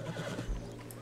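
Brief horse whinny from Red Dead Redemption 2, a short nasal neigh with a low snort-like thump in the middle, heard close and alone.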